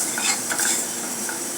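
Onion fries in oil in a pan with a soft sizzle, while a utensil scrapes and stirs it in quick strokes.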